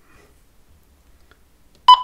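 A single short, bright key-press beep from a Quansheng TK11 handheld CB, amateur and HF radio, close and clear at the very end after near silence.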